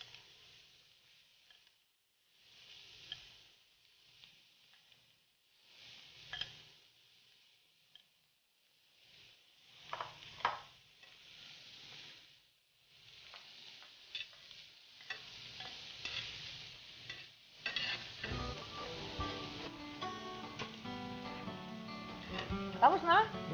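Sisig sizzles and is stirred in a hot pan in Pampanga-style cooking, with soft scraping strokes that grow busier and louder toward the end as people talk over the clatter.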